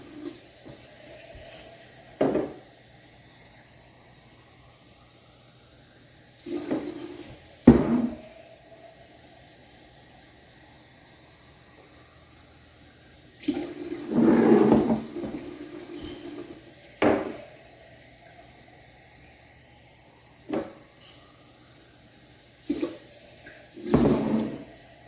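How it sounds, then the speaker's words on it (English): Canning jars filled with water up to the neck, with intermittent gushes and trickles of water and clinks of glass and metal in a quiet kitchen, spread across irregular bursts. "you're going to fill them up to the neck with water."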